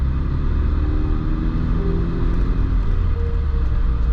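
A 1993 Volvo 240 wagon with rear-wheel drive and a five-speed manual drives on ice. Its engine gives a steady, loud, low rumble from inside the car with a slight rise in pitch, and no one speaks.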